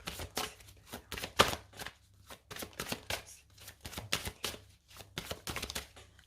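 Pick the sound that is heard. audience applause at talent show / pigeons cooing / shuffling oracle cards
shuffling oracle cards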